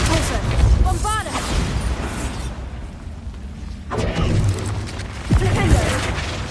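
Bombarda spell explosions in Hogwarts Legacy, a run of booming blasts and crackling bursts amid spell-combat clatter, with a voice calling out spell names over the action.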